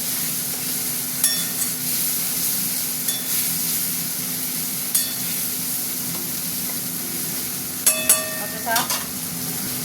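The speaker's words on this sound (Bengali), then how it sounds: "টমেটোটা দিয়ে দিলাম, টমেটোটা একটু ভাজবো" Tomatoes and shrimp frying in a pan for a banana-flower curry: a steady, moderately loud sizzle broken by several sharp metallic clinks and scrapes of a stirring spoon, with no talk.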